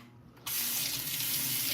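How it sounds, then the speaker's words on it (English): A kitchen tap suddenly turns on and runs water over a spoon in the sink, a steady close rushing flow that continues after a brief quiet start, with no talking. "just rinse off the spoon"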